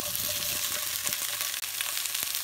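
Chili peppers and onions stir-fry in hot oil for a sweet and sour vegetarian eggplant dish, a loud, steady sizzle with faint stirring taps running throughout.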